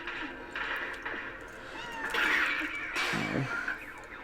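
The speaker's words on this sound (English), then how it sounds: "Our cat might be squeaking to ask us for dinner." A pet cat squeaks and meows for dinner in a series of short, high, fairly close calls over quiet game background sound, with no talk.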